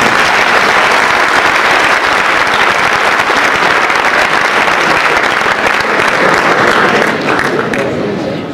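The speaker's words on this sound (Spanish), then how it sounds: "Yo creo que merece un aplauso." A conference audience gives a speaker a loud, sustained round of applause, a thick, even roar of many hands clapping that stays strong throughout and eases slightly in the final moment.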